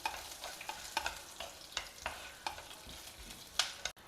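Tamarind and cluster bean chutney ingredients frying together in a pan, with a soft steady sizzle broken by repeated scraping stirs every half second or so, close and fairly quiet, with no talking.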